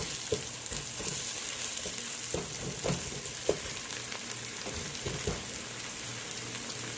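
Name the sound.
onions cooking in a pan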